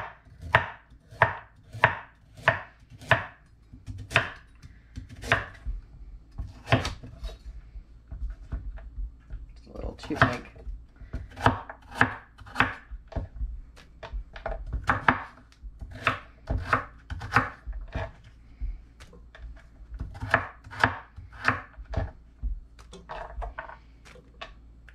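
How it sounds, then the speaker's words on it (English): A knife chops carrots on a board in quick bursts of crisp, close cuts, then pauses and resumes in irregular rhythm, with no talking. "Just taking the ends off of the carrots."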